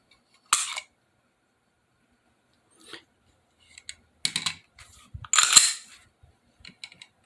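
A handheld trigger pull gauge works the trigger of an SD40VE pistol, giving a few sharp mechanical clicks and snaps separated by quiet pauses, close and dry, with a cluster of rattling clicks near the end.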